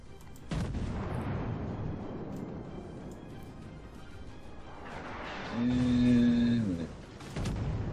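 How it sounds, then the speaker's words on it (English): Battleship Wyoming's gunfire in the naval game World of Warships: deep booming blasts open and close the passage, with a steady rumble between and a loud, droning horn-like tone swelling near the end. "I'm about to get hit by Wyoming shots."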